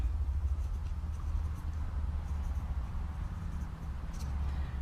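Model railroad track being trimmed: faint, steady scratchy scraping close by over a low background hum, with no speech.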